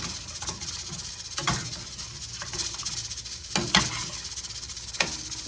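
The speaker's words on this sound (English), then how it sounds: "Let me get it stirred up, put my lid on it." A spoon stirs a roast in a pressure cooker: irregular scraping strokes over a constant sizzling hiss, close and fairly quiet, with no one talking.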